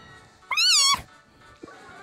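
Meowth's cry in the video game Pokemon Moon, a loud, bright, rising-then-falling synthesized meow lasting about half a second, followed by a fainter short game tone.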